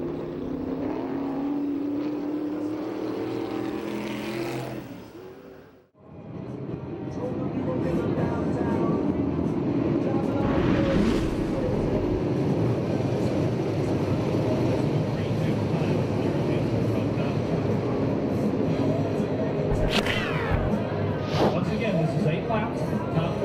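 USAC/CRA sprint cars race at Perris, California, engines roaring under a race announcer's steady commentary, with a brief drop-out and then loud passes that swell and fade.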